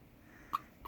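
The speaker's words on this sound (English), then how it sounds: "You got morning hiccups?" A baby's single short hiccup in the morning, one brief close sound midway through a quiet moment, followed by the start of another.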